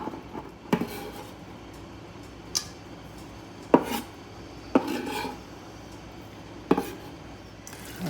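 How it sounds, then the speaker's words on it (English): Food being chopped inside a RedChef cookware pot, with a handful of sharp, irregular knocks and scrapes spaced a second or two apart over a quiet background; no one speaks. "I think we need to just chop away. I don't really want them mushed."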